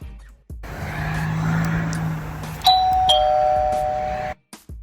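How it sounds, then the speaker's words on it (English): An Amcrest WiFi video doorbell chime rings two tones over a steady background hum, clear and close. "test it out by pressing the doorbell"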